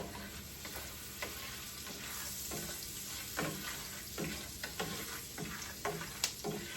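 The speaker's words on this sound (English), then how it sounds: "And you're just going to stir that together real good." Stirring street corn ingredients cooking in a pan, a steady soft sizzle with repeated scraping strokes of a utensil, close and fairly quiet, no talk.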